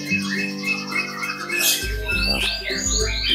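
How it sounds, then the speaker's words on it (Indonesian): Recorded hawk call played from an MP3 player at a bird school in Jakarta, a shrill piercing cry rising over a mix of chirping and squawking caged songbirds, with a low hum underneath. "Kalau ada suara seperti suara elang itu suara dari MP3."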